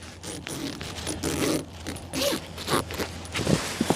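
The zipper on a camping hammock's bug netting is worked in short, scratchy bursts, rasping unevenly under strain, close by amid rustling fabric and small clicks.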